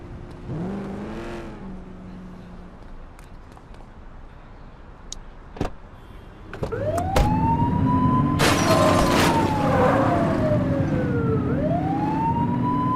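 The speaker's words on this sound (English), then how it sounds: "You're only meant to use the siren in emergencies." Police car siren in The Precinct video game, starting as a brief wail and then rising into a loud, sustained rising-and-falling wail over a revving car engine, with sharp clicks and bursts along the way.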